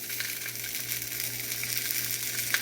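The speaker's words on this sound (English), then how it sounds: "you can hear it sizzling" Food sizzles steadily in a hot cast iron pan, a constant crackling hiss with small pops and a low hum underneath.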